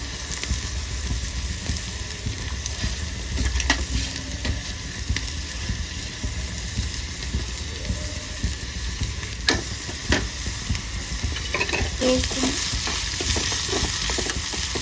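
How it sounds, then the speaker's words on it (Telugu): Finely chopped onions and green chillies fry steadily in hot oil, a close, continuous sizzle with occasional stirring scrapes and clicks from the pan. "నూనె వేడెక్కిన తర్వాత సన్నగా తరిగిన ఉల్లిపాయలు, పచ్చిమిరపకాయలు,"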